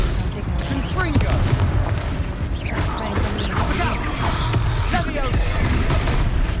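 Confringo fire spell blasts in the video game Hogwarts Legacy, loud bursts and crackling impacts over busy combat noise and game music, with a player speaking over the action.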